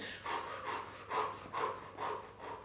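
During a Pilates breathing exercise, a person breathes in a steady rhythm, about six quiet, close, airy breaths at even intervals, with no talk.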